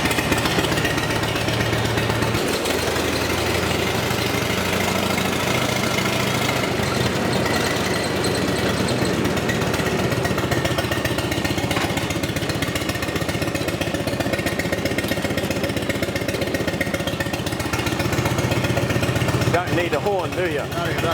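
A vintage stationary engine with an impulse magneto runs loud and steady after a little throttle, a continuous rough chugging throb close up, with someone talking over it.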